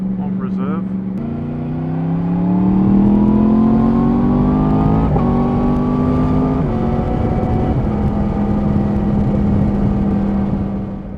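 A Yamaha MT10 motorcycle runs on reserve fuel with a loud, steady engine drone whose pitch rises and shifts through gear changes, riding close and continuous with a faint voice underneath.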